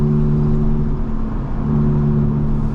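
A Volkswagen Rabbit with a manual gearbox, its engine running rough and humming steadily with a low droning tone that holds for a few seconds, heard close from inside the car.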